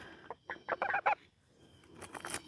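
Geese in a backyard garden in upstate South Carolina give a faint, quick run of honking calls, followed by softer, scattered calls against quiet outdoor background noise.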